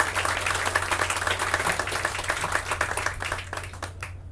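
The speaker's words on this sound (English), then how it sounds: "Let's give a big round of applause." A crowd at an outdoor main street groundbreaking applauds a sponsoring law firm, steady clapping over a low hum that gradually fades toward the end.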